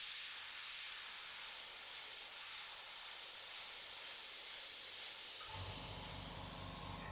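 Airbrush spraying paint for a mural with an air compressor running, a steady loud hiss throughout, joined near the end by a lower mechanical hum as the compressor kicks in.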